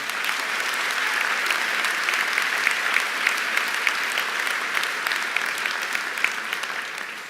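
Sustained applause from a large graduation audience at a school commencement, dense steady clapping filling the hall for several seconds with no voices over it.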